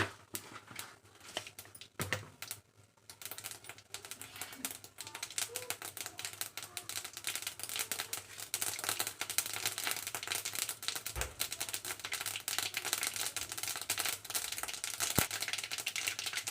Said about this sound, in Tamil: நல்லா எண்ணெய் சூடு ஏற பார்த்து கடுகு சேர்த்திக்கலாம். கடுகு நல்லா பொரியட்டும்.